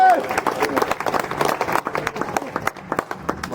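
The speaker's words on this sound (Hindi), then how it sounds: "एक बार ठीक से ताली बजाओ" An audience at a Hindi poetry recital claps, a close burst of dense, uneven applause that rises and then thins out over a few seconds.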